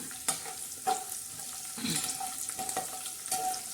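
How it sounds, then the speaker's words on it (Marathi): Garlic and cumin tempering sizzles in hot oil for a green chili and lemon pickle, with several sharp scraping stirs of a spoon against the pan over a steady crackling hiss, close and fairly loud. "आता छानसा असा मस्त तडका बसत आहे याला लसण आणि जिऱ्याचा"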